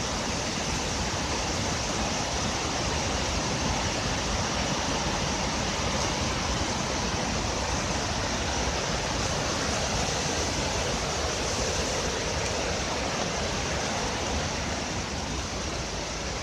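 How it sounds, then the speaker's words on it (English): Vazhachal Falls in Kerala roars continuously, a dense, steady rush of falling water heard from a viewpoint, filling the whole clip at an even, loud level with no voices. "you can hear the roar of the water"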